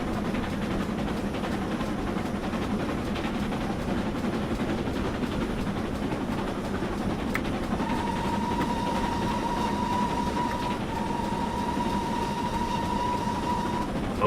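A steam train from Train Simulator 2017 runs with a steady, loud rumble and rail noise throughout, and a long whistle-like tone sounds in the second half.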